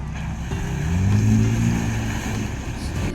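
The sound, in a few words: 2nd Gen Toyota Tacoma exhaust with cutouts open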